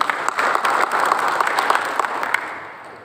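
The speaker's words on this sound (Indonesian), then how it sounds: "tepuk tangan dulu ya" Audience at a political party meeting breaks into applause, a dense, steady patter of many hands that holds strong, then thins and fades toward the end.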